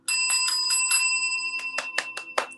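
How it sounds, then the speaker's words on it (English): A small hand bell is rung during a livestream: a sustained bright chime, then a series of about six quick, clear strikes, close and fairly loud, with no talking. "I'm going to ring the bell."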